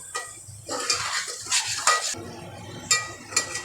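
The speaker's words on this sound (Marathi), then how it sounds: "मसाला चांगला तेल सुटेपर्यंत परतवायचं आहे आणि त्याला चांगलं असं बारीक गॅसवरती हलवत राहायचं आहे." Masala stirred and sautéed in oil over a low flame for white-pea misal, heard as repeated scraping and clinking of a spoon against the pan at an irregular pace, moderately close with no talking.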